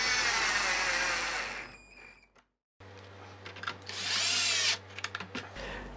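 A power drill whirs in short, close bursts driving M4 screws to bolt Arduino mounts into a guide for a Boeing 737 autopilot panel build, with a silent gap between bursts.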